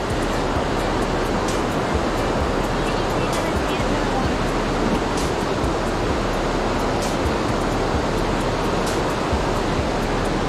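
Dense, roaring rush of a waterfall on a Western North Carolina river fills the scene continuously and loudly, broadband and unchanging.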